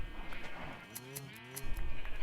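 Sheep bleat in a Minecraft farm, several wavering calls overlapping close by over a constant background hum.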